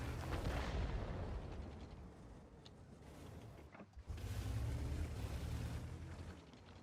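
Heavy artillery shell impact in the tank game World of Tanks, a loud booming blast with rumbling aftermath, a brief dip, then another dense roaring burst.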